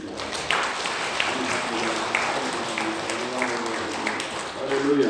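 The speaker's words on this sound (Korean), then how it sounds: "우리 하나님께 감사와 찬송과 영광의 박수를 올려드리겠습니다" A church congregation at a Sunday service applauding in praise, sustained broad clapping from many hands filling the room, with faint voices and a little music underneath.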